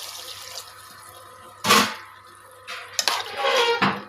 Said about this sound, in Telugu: కావాల్సినంత వాటర్ వేసి